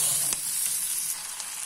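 Bajji chillies sauté in a pan for chutney, giving a faint, steady sizzling and frying hiss with a few soft stirring clicks.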